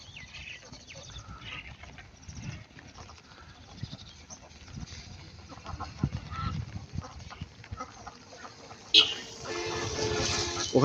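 Ducks inside a netted enclosure on a large duck farm give off scattered honking quacks, fairly faint and mixed with people talking, before a louder burst of rustling noise near the end.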